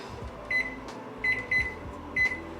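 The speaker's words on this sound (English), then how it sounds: "maybe we'll do the timer on the microwave" Microwave oven beeps as a timer is set: four short bright electronic beeps spaced irregularly over a quiet low hum, close and clear, with no talk.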